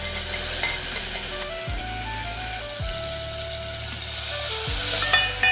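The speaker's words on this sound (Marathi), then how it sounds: "मोहरी तडतडायला लागली की लगेच कढीपत्ता टाकून घ्यायचा आहे" Mustard seeds, curry leaves and crushed chili crackle in hot oil for a kadhi tempering, a loud close sizzle with popping and stirring over a steady hum.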